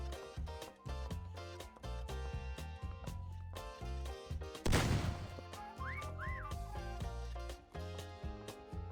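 In a hide-and-seek video game, a whistle sounds as two short rising-and-falling tones over busy, steady game music, following a brief crash midway through.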